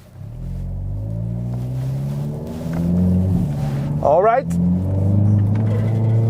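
A Hyundai i30N sports car engine rumbles steadily as it drives along a road, with someone talking over it throughout.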